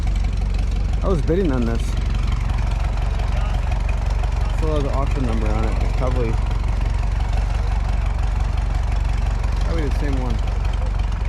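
An old tractor idles steadily at an outdoor tractor show in Ellison Bay, Wisconsin, its low, even engine rumble running throughout beneath nearby conversation.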